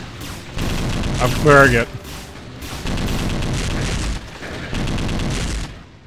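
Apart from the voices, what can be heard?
shotgun gunfire in the video game Brutal Heretic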